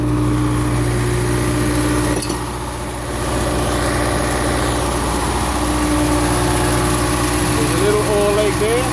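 A pump engine idles steadily, a loud, continuous mid-pitched drone with a constant low hum, near and unbroken, with a short dip in level partway through.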